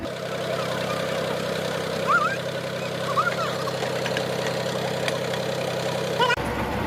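A tractor engine idles with a steady, low rumbling drone throughout, driving a vertical boring machine, while a few faint chirps sound in the distance.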